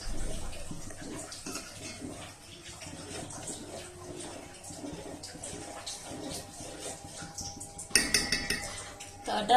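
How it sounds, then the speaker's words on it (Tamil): Arabian pudding mixture stirred in a pot, a steady close scraping and clinking of a utensil against metal with a louder burst of clatter near the end, no talking. "நல்லா ஸ்டர் பண்ணி விட்டுக்கணும்."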